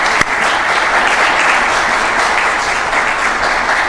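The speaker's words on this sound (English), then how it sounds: "let's give them a big round of applause for that" Steady applause from an audience at a Santa Ana city council meeting, sustained and fairly loud throughout, with one sharp clap standing out near the start and no talk over it.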